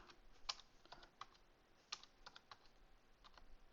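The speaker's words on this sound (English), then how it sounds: "my keyboard's kind of acting up on me a little bit here" Typing on a computer keyboard during Access 2013 VBA programming, a quiet irregular run of separate key clicks with a couple of sharper strikes, close and alone with no talk.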